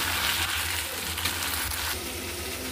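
Spiced potatoes with salt frying in a pan while being stirred, a loud, steady sizzle with occasional scraping and stirring noises close by.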